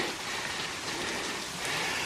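Water falling in sheets at a waterfall in a Tennessee nature preserve, a steady, dense rain-like hiss that holds even and close throughout with no voices.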